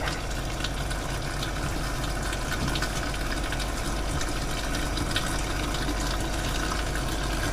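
Water drains and gushes from hot water tanks during dewinterizing. The rush is steady, loud and broadband, with a low rumble underneath and no break.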